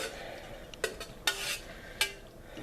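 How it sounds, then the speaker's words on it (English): Cooked, drained macaroni being stirred into a pot of turkey chili, giving a few sharp utensil scrapes and clinks against the pot with soft wet mixing between them. "And you want to stir that in."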